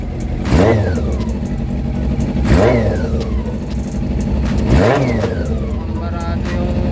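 A rusty Honda CB400 cafe racer under repair, its engine running loud and close with three sharp revving swells over a steady rumble, with a clogged radiator.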